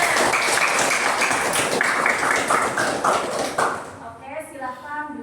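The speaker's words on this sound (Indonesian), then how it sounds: "Mana tepuk tangannya?" A classroom group breaks into dense, steady clapping for a few seconds that fades out as a voice begins speaking.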